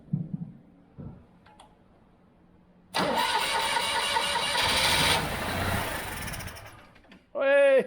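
A rare Citroen Acadiane's engine is cranked and catches, a few faint clicks followed by a loud sputtering run lasting a couple of seconds that fades away, with a voice briefly exclaiming at the end.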